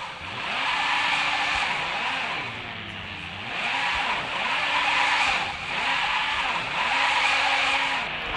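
A drift car skids through repeated slides with long tire squeals, engine revving rising and falling in waves, loud and close with no talking.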